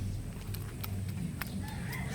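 Kelso gamecock stags clucking and scratching quietly during feeding, with soft, scattered clucks and brief bird calls over a low background rumble, faint and close.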